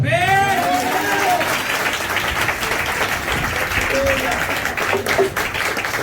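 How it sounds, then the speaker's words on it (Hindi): A church congregation claps together in sustained applause during a devotional service, a dense, continuous patter that holds steady throughout while a voice speaks over it. "प्रभु की महिमा के लिए ताली बजा।"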